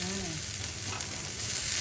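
Handvo batter sizzles in a hot tempering of mustard seeds, cumin, sesame and curry leaves, a steady close frying hiss with a brief tonal sound at the start.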